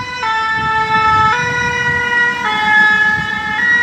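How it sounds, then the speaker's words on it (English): An ambulance siren in a town street, loud and near, with a two-tone pattern switching pitch about every second over the rumble of traffic. "Oh yeah, I hear ambulance."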